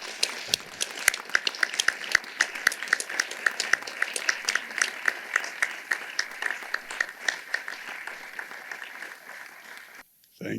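Wedding guests applaud the couple's parents and grandparents with crisp, individual claps at a moderate distance, steady for about ten seconds before tapering off, with light murmuring underneath.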